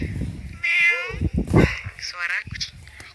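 Several cat meows produced by a voice-changing phone app, short tonal cries in quick succession, close and clear, with a person talking between them.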